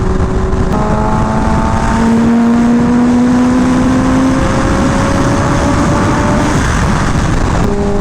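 A Kawasaki Ninja H2R engine pulls hard through six gears, its rising whine climbing in pitch through each gear and dropping briefly at every shift. The sound is loud and steady over continuous wind and road roar, with no talking.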